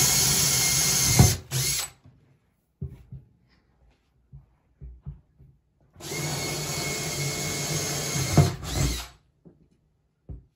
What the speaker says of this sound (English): we're gonna drill from the bottom up and put four screws with bolts in the bottom